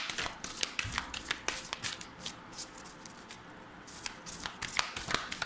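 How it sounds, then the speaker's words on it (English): A deck of tarot cards is shuffled by hand up close, with quick bursts of riffling and soft card taps in an irregular rhythm, heard alone without talk. "Let me just shuffle once more."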